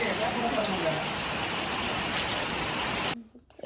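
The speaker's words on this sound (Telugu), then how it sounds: "వాన పడుతుంది" Rain falls in a dense, steady hiss for about three seconds, close and even, then cuts off suddenly to near silence.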